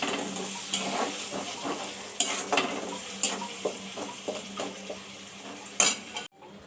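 Ginger, garlic, onion and tomato paste fry in a pan under a steady sizzle while a utensil stirs and clinks against the metal in irregular, close knocks, with no talking.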